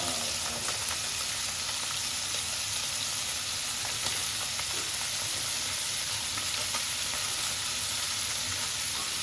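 Small mola fish frying in hot oil in a pan, a dense, continuous loud sizzle that holds evenly throughout with faint stirring scrapes underneath.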